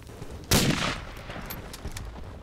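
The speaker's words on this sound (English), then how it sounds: "That was a grenade." A grenade goes off in the World War I shooter Verdun: one loud, sudden blast, then a decaying rumble with faint distant gunshots scattered after it.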